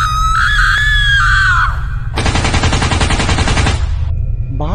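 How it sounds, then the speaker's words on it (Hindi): A woman screams wildly in a Free Fire game story, a long piercing shriek followed by a second harsh, sustained scream, loud and close with a low rumbling backdrop. "कमला वहां पर आती है और पागल की तरह चीखने चिल्लाने लगती है।"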